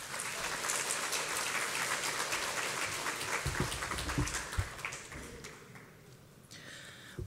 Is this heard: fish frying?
no